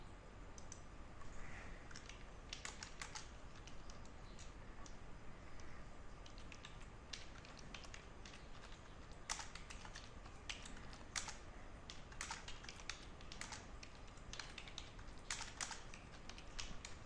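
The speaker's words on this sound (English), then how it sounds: "I have to type in between." Quick, irregular clicks of typing on a computer keyboard come in short bursts over a faint, steady background hum, fairly quiet and close.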